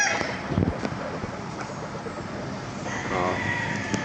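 Roosters at a chicken market in Laguna, several birds crowing and clucking in a busy outdoor crowd, the calls moderately near amid steady background chatter and noise.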